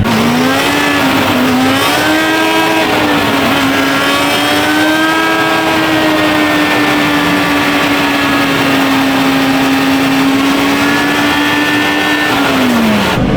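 A motorcycle engine on a wheelie simulator at a bike meet screams at high revs, its pitch rising and dipping in long sustained pulls, very loud and close throughout with no talk.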